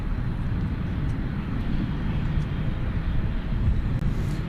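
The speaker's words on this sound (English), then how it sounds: "So there's Spirit off to Las Vegas" A Spirit Airlines jet departs DFW at night for Las Vegas, heard as a steady, moderately loud low engine rumble at a distance throughout.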